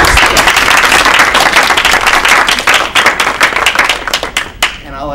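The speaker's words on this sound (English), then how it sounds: "I think just a round of applause." A board of education meeting crowd bursts into loud, dense applause that carries on strongly, then thins into scattered claps and fades out.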